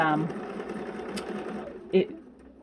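Sewing machine chain piecing quilt blocks, a rapid stitching whir that fades under someone talking, then a brief clack.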